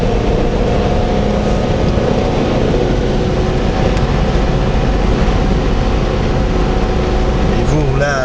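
A Talon car cruises at about 110 km/h, its engine and road noise forming a loud, steady drone heard from inside the cabin, with someone speaking French throughout.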